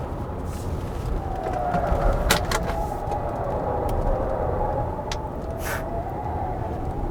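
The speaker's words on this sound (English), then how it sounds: "let's try the corner with the Mohave" A 2020 Kia Mohave SUV, a heavy flagship model, takes a corner with a steady low engine and road rumble inside the cabin, broken by a few sharp clicks and light rattles.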